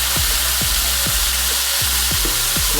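Birria taco meat and cheese sizzle steadily in a hot pan while being stirred, with a regular series of soft scraping knocks from the utensil every half second over the continuous frying hiss.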